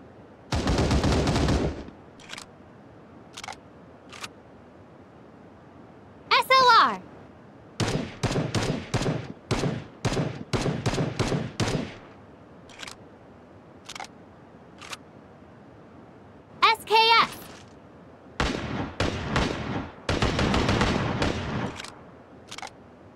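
Gunfire from the MK-14 rifle in the video game Sausage Man: loud, close bursts of rapid shots in several separate volleys, with mechanical reload clicks and handling sounds between them and short silent gaps.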